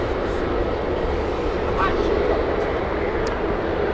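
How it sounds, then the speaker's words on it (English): A Finnair airliner taxiing at Heathrow Airport produces a steady, broadband jet-engine roar at a distance, continuous throughout, with a faint voice under it. "Finnair taxiing, they're going to be taking off soon."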